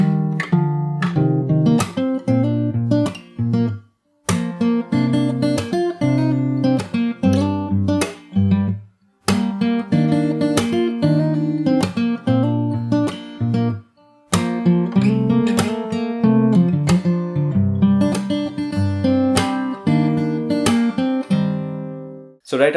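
Fingerstyle acoustic guitar plays the end of the verse and the first chorus of a song, with dense strummed and picked chords, percussive slaps and a few brief pauses. Close and full, with no voice.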